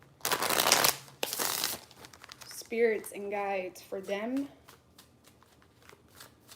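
A brand-new tarot deck is shuffled in a few quick, crisp riffling bursts near the microphone, followed by a person speaking softly.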